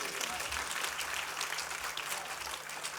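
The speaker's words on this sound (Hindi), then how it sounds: "इनके पधारने से पहले ही तालियां तो बनती हैं।" Audience at an Arya Samaj convention in Himachal Pradesh applauds guests arriving on stage, a steady, continuous wash of clapping with a faint voice underneath.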